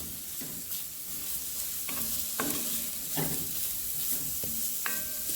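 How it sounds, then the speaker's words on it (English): Shallot, carrot and celery sauteing in a pan with a pinch of salt, a steady close sizzle broken by several sharp stirring scrapes and clinks, with no talking. "I'm going to saute this for a couple minutes"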